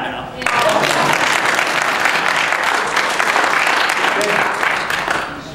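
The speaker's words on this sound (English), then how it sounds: "You can clap now." Loud, dense audience applause at a lighthouse talk, starting abruptly and holding steady as a close wall of clapping with no one talking over it.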